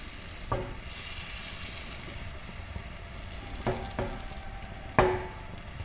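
Crepe batter hits a hot pan and sizzles steadily while the pan is swirled, with a few sharp clinks of metal at intervals and no voices.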